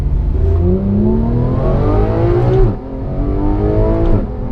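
A Porsche 911 GT3 engine revs hard through rising pitch sweeps, firing off quick upshifts with a sharp break near the middle, loud and close with no voices.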